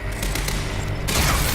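Rapid gunfire bursts from shooting enemies in the video game Quantum Break, loud and dense, with a sharper, brighter volley in the final half second and no voices.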